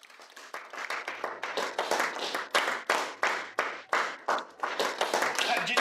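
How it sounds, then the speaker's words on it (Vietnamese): An audience breaks into clapping, starting scattered and building into steady, fairly close applause in pulsing waves, with voices faintly mixed in. "Tôi xem hôm nay ai dám vỗ tay."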